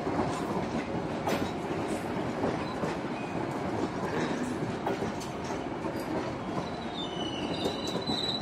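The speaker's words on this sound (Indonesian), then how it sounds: "KA lokal merapat stasiun Nagreg di jalur 3 ya sobat semua." A loaded local train pulls into Nagreg station on track 3, rumbling steadily at close range with wheels squealing and clacking over the rails, and no one talking.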